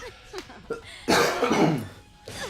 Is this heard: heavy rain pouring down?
no